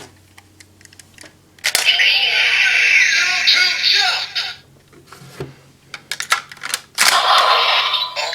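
A Kamen Rider Zero-Two key toy activates in the Shot Riser, with sharp mechanical clicks and bursts of loud electronic sound effects and announcer-style audio, interrupted by brief pauses and more clicks.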